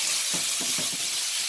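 Butter heating in a pan gives a short, even sizzling hiss, with a few soft low taps underneath.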